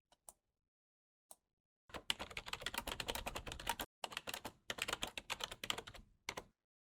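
Typing on a computer keyboard: two isolated taps, then two long bursts of rapid, fairly close key clicks separated by a short pause, with a brief final flurry and no talking.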